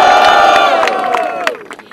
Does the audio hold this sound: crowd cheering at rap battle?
yes